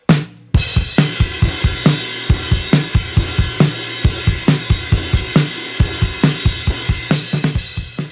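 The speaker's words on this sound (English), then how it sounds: "this is what the drums sound like." A recorded acoustic drum kit plays a steady rock groove with punchy kick, snare hits and cymbal wash, loud and close with crisp repeated beats throughout and no talking.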